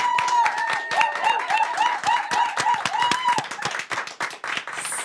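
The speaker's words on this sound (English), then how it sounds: "give a huge home applause to Lena and Skinfo" Crowd clapping at a startup demo day award announcement, individual claps fairly distinct and rhythmic, with whistles or cheers mixed in and the clapping thinning toward the end.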